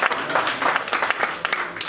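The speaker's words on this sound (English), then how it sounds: "Let's give a round of applause to all the teams," Brief burst of audience applause for the teams at a banking quiz competition semi-final, dense, lively clapping throughout.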